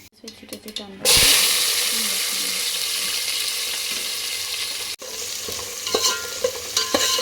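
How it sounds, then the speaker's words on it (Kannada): Onions fry in oil in a pot with coriander and mint, giving a loud, steady close-up sizzle. Spoon stirs rattle and scrape through it, with a few sharper clinks near the end. "ಬ್ರೌನ್ ಕಲರ್ ಆಗೋವರೆಗೂ ಇದೆಲ್ಲ ಚೆನ್ನಾಗಿ ಫ್ರೈ ಮಾಡ್ಕೊಂಡು ಈಗ ಈರುಳ್ಳಿ ಬ್ರೌನ್ ಕಲರ್ ಆಗಿದೆ"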